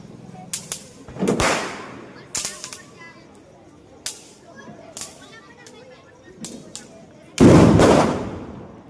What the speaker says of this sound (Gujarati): આ બધા ફટાકડા ફોડે ને આપણે આગે ઊભા ઊભા જોવાના